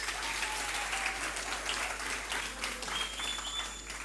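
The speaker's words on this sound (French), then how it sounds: "Je vous demande d'applaudir pour lui s'il vous plaît." Applause at a high school awards ceremony greets a student named Marius, a dense, even clatter of many hands heard at some distance and without speech.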